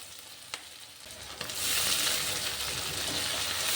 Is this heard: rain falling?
no